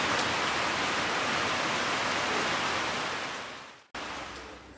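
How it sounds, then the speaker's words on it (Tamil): Steady, loud rain pours down outdoors during an open-air village cooking session, a dense continuous hiss that briefly cuts out near the end before resuming. "கொஞ்ச நேரத்தில் பார்த்தீங்கன்னா நல்ல மழை பெய்ய ஆரம்பிச்சிருச்சு."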